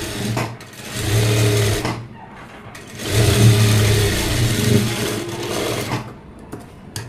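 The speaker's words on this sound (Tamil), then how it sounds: "இப்போ நான் அது மேலேயே இன்னொரு தையல் வந்து போட்டு எடுத்துக்கிறேன்" A sewing machine runs a line of stitching on a puff-sleeve blouse in two long, loud bursts of fast whirring, close up, with a brief slowdown between them.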